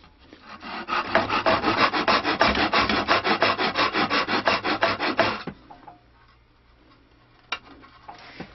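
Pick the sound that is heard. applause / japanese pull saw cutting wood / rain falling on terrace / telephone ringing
japanese pull saw cutting wood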